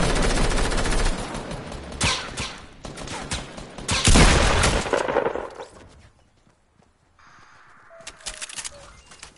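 Rapid bursts of gunfire from a Fortnite match, loud and dense for several seconds, then fading to a quieter stretch before more scattered shots return near the end.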